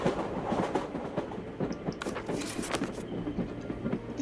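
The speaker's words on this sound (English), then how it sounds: "When I opened the wardrobe, I found a portal leading to a passenger train." Passenger train in the House of 1000 Doors game running steadily, a continuous close rumble with rhythmic clickety-clack of the wheels and brief metallic squeals over the rails.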